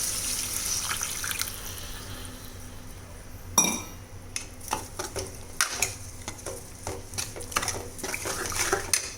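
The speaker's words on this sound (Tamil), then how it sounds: "கரைச்சி வச்ச புளி தண்ணி சேர்த்துக்கலாம்." Tamarind water goes into a cooking pot of poondu kulambu, a short pouring splash followed by clinks and scrapes of a utensil stirring against the pot.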